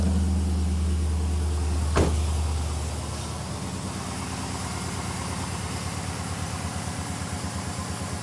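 Old $700 truck engine idling steadily with a low, even rumble, a brief sharp transient near the start, then a continuous pulsing drone with no talk.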